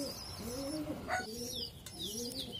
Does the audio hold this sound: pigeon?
yes